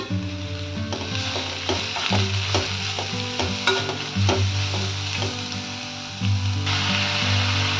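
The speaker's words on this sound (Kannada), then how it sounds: "ರೆಡ್ ಕ್ಯಾಪ್ಸಿಕಮ್ ಇದು, ಹಾಗೆ ಯೆಲ್ಲೋ ಕ್ಯಾಪ್ಸಿಕಮ್ಮು, ಆಮೇಲೆ ಗ್ರೀನ್ ಕ್ಯಾಪ್ಸಿಕಮ್ಮು ಎಲ್ಲದೂ ಹಾಕಿ ಒಂದ್ಸರಿ ಫ್ರೈ ಮಾಡ್ತೀನಿ" Red, yellow and green capsicum frying in a pan for capsicum rice, a loud continuous sizzle with a spoon scraping and stirring in repeated strokes, close up and without voices.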